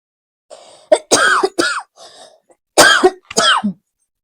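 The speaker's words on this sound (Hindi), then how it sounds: "खांसी ही आने लग जाती है।" A woman coughs in a quiet room: a few raspy throat-clearing rumbles followed by two or three harsh, close coughs in quick clusters, then a final softer hack.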